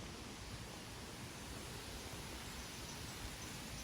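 A river and waterfall in Jesmond Dene, Newcastle, produce a steady, dense rush of falling water that stays constant and fairly loud for the whole stretch.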